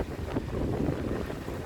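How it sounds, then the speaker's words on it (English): Strong wind buffets the microphone outdoors in Iowa farm country, a steady low roar with gusty rumbling that runs alone through the whole short stretch. "It is windy"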